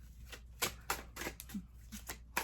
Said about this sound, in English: I'm sitting here shuffling